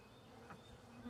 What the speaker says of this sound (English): Let's go ahead and shake these bees down.